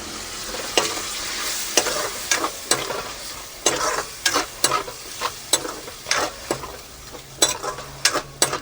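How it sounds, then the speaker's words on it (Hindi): Chicken masala with garlic, onion and chili fries and sizzles in a pan while a spoon scrapes and stirs it in steady, repeated strokes, loud and close with no talking. "अब इसको अच्छा से तलते हैं कम से कम 10 मिनट।"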